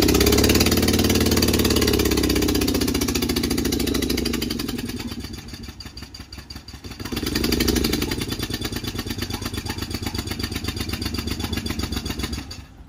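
A 1991 Toyota Camry engine with bad spark plugs runs rough and misfires, a loud uneven mechanical chugging that dips midway and then settles into a steady, lumpy rhythmic clatter, heard up close with no talking.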